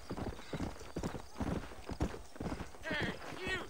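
Horse hooves clip-clopping in the western video game Red Dead Redemption, a quick irregular trot of clops with a whinny near the end, under a voice talking.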